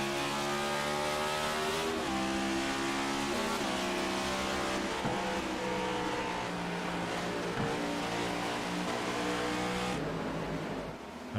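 Cup Series race cars at Darlington in the iRacing sim roar continuously at high speed, loud engines holding steady with repeated pitch drops at upshifts and a final surge.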